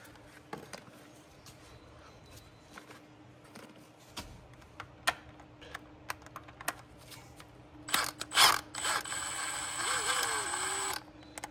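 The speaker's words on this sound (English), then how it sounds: "Take these two bolts." A ratchet works on the transmission mount bolts of a Honda car, giving scattered close ticks and clicks, then a louder rapid ratcheting burst toward the end.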